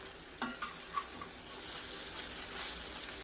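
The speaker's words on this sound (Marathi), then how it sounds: "शेंगदाणे टाकायचे आहे त्यामध्ये आणि मिक्स करायचं" Peanuts are being stirred into kanda poha in a hot pan, with a soft, continuous sizzle under a few quick scrapes of the spoon early on, then steady mixing; no talking.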